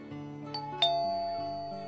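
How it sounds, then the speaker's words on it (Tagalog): A two-tone doorbell chime rings once, a clear ding followed by a lower dong that fades out slowly, close by with no talking. "Pindutin ko nga ulit itong doorbell"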